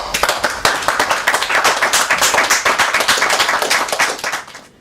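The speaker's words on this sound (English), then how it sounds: "Everybody, round of applause." A studio audience claps and applauds after a live game show, dense rapid hand claps filling the room close and loud for several seconds before tapering off at the end.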